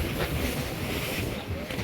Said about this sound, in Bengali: এই যে দেখেন এখনও বৃষ্টি পড়তেছে, ঢেউগুলো এসে লঞ্চের হালের সাথে বাড়ি খাচ্ছে